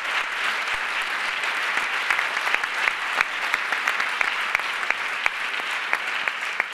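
An audience at a talk on gender equality and political power applauds in tribute to Clara Campoamor, a steady sustained round of clapping from many hands with sharp individual claps standing out.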